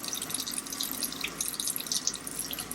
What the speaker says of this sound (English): using warm water, all you'll do is pass the filter underneath the warm water